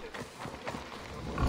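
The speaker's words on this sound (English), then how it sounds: "Did I hear a pig?" Pigs grunting and oinking in the video game Assassin's Creed Odyssey, a faint low snuffling amid ambient game sound, with a louder grunt at the end.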